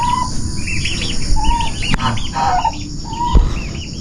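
Loud turkey calls nearby, several turkeys gobbling and clucking in overlapping bursts against a busy farmyard background.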